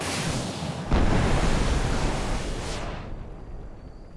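A river rushes in the ARK Genesis 2 video game as a steady broadband wash of water. It swells loudly after a second, holds, then drops away with the high end cut off, and no voices are heard.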